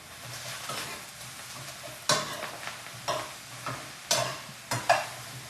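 Eggplant fries in olive oil for caponata, a constant sizzle broken by several sharp stirring and scraping hits from a utensil in the pan, close and fairly loud.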